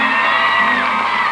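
A game-show studio audience cheering and whooping for the French team, a loud, sustained crowd roar with shouts, heard alone at close range.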